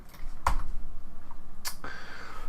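Two sharp, close clicks from a computer keyboard while a command is typed, spaced about a second apart over a faint background hum.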